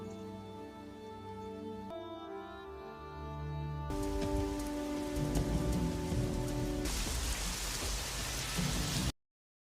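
Rain falls through the night as a steady, soft hiss that grows denser and louder partway through, under a sustained musical drone before cutting off abruptly.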